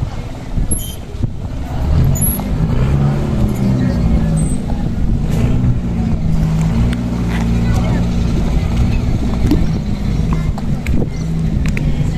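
A motorboat engine drones steadily and close by throughout as the boat arrives at a fish market dock, with people talking over it.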